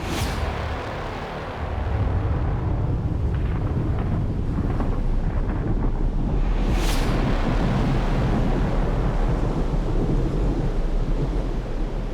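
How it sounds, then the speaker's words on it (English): An outdoor storm rolls in at the Survivor Australia finale, with heavy rain roaring loud and constant, low thunder rumbling underneath and a sharp crack partway through. "Rain's starting to come in."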